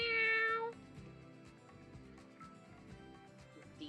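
A cat meow sound effect triggered by a stream redeem rings out loud and clear in a single sustained, harmonic meow at the start, then drops away beneath quieter background music.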